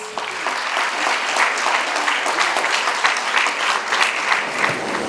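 Steady applause from an audience at a women's entrepreneurship day event, honoring the FKCCI president and a guest founder, sustained and even for the whole stretch with no voices over it.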